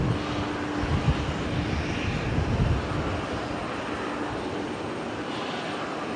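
An aircraft departs from a Brisbane Airport runway at night, a moderate, steady engine rumble with a faint tonal hum that swells briefly and then fades slightly.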